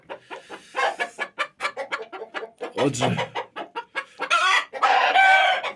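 Leghorn chickens in a henhouse clucking in quick repeated bursts, close and fairly loud, with one longer crowing-like call midway and someone speaking briefly.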